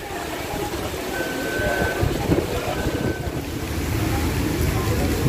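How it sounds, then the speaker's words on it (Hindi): Heavy rain pouring down with strong gusting wind at a railway station in Toba Tek Singh, a dense, steady roar with buffeting wind across the microphone throughout. "बहुत ही तेज़ बारिश हो रही है और तेज़ हवा भी चल रही है।"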